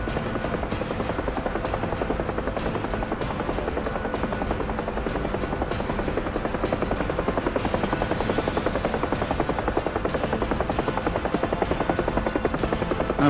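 A UH-1H Huey helicopter comes in to land in the DCS World flight simulator, its rotor beating in a steady, rapid chop with a constant turbine whine, loud and unbroken throughout.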